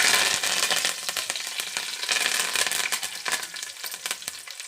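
Curry leaves sizzle and crackle in hot oil alongside dried red chillies for a Rayalaseema uggani, loud close frying with sharp popping bursts that gradually settle.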